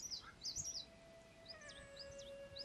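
A haddad bird calls in El Meddad forest in Algeria, giving several quick, bright chirps in two short bursts, fairly close and moderately loud, over a faint steady background tone with no talking.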